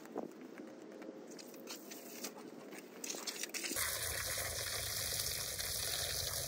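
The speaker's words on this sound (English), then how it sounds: "All right, let's water some plants now." Water poured over garden plants, a steady splashing and trickling stream that starts abruptly midway and carries on close and fairly loud, following a stretch of soft rustling and shuffling movement.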